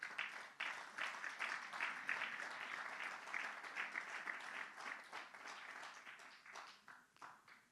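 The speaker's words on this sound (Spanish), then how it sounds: "Un aplauso al Señor." Sustained applause from a church congregation during a service, with many hands clapping steadily for several seconds before gradually thinning out near the end.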